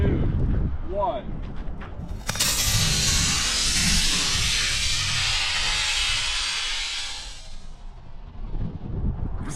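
A Ringtail model rocket ignites with a sudden sharp onset and roars into a loud, sustained hissing rush for about five seconds before fading, with voices heard before and after the burn.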